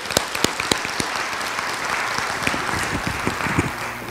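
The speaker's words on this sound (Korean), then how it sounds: "박수 해주세요." A church congregation claps for a missionary brought up to the front, a continuous patter of applause with several sharp individual claps standing out close by, steady and unbroken across the moment.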